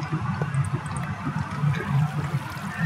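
Steady rushing and gurgling of a flowing water stream in a Minecraft Skywars match, a continuous liquid wash with bubbling texture, fairly close and loud, no voices.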